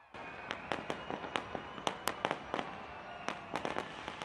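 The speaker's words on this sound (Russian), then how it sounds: "чтобы посмотреть на праздничный фейерверк" A rapid series of sharp celebratory fireworks bangs and crackles near the Sky Tower, irregular and fairly distant, bursting one after another over a steady crowd-like background.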